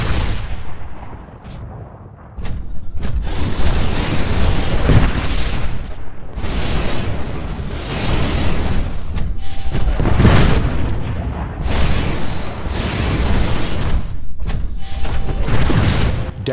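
Rockets exploding around a hallway in Titanfall, a series of heavy booms and blasts arriving every second or two, loud and close, with short lulls between bursts and a rumbling tail after each impact.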